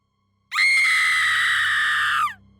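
A woman's loud, sustained scream of terror, close and piercing, rising abruptly and holding for nearly two seconds before cutting off, with no other voices.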